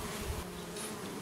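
Carpatica honeybees humming at an opened hive during an early spring check, a steady close buzz filling the short stretch with no voices.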